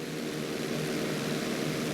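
A propeller stunt plane drones steadily through a roll in Grand Theft Auto V, a loud continuous engine and airscrew roar with no voices.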